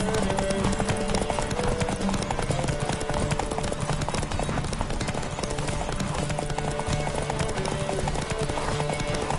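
Rapid galloping hoofbeats of a horse in the video game Witcher 3, a steady dense clip-clop rhythm running loud and continuous throughout, layered with game music and ambience.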